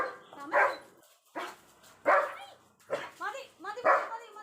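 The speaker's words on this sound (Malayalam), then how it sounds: "കുരയാണ്" A pet dog barks repeatedly nearby, five or so sharp, loud barks in an uneven rhythm with short gaps between them.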